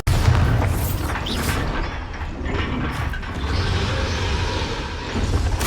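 The Bombarda spell going off in Hogwarts Legacy, a loud, sustained booming blast with rumbling debris that fills the whole stretch; no talking.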